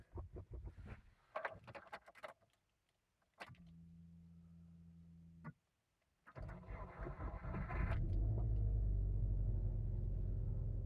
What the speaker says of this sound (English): Now we'll see whether the forester wants to start at 0 degrees with snow on the bonnet